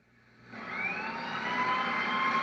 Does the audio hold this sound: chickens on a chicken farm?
no